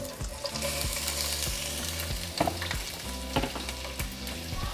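Onion hits hot oil in a pan and fries with a steady crackling sizzle, punctuated by a rhythmic series of scraping stirs, close and moderately loud with no talking.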